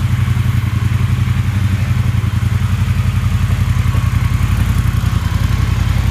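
A Triumph Speedmaster motorcycle with its original exhaust, showing 659 miles, runs at a steady idle, its engine thumping in a fast, even low pulse that stays loud and close throughout.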